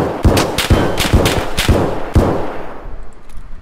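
Suppressed gunshots ring out outside in Escape from Tarkov: about seven muffled, fairly loud cracks in a quick, steady series, then a fading tail.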